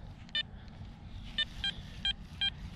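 A Garrett ACE APEX metal detector sweeping over a park gives a series of five short, high electronic beeps, spaced irregularly, over a steady low rumble of background noise.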